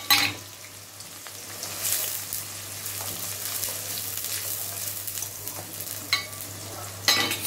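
Thinly sliced onions fry in a pan while being stirred, giving a steady close sizzle broken by a few scraping stirs near the start and end, with a low constant hum beneath.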